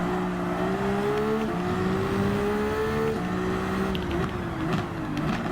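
Tomahawk S race car engine in the video game Gran Turismo 7, a sustained, whining engine tone with gear-shift steps in pitch, steady and moderately loud with no talk over it.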